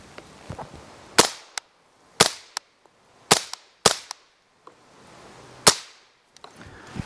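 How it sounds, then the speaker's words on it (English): A suppressed CMMG MK57 in 5.7 fires single rounds into dirt: about half a dozen sharp, loud cracks spaced irregularly apart, each with a brief echoing tail and a quieter knock just after. "we'll just shoot a couple of rounds into the dirt here so you guys can hear it on the"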